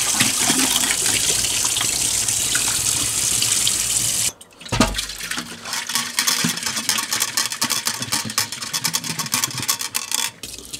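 Water gushes loudly through a shisha hookah as it is rinsed. The steady rush cuts off abruptly, then turns into choppy, uneven splashing and sloshing as the hookah is shaken.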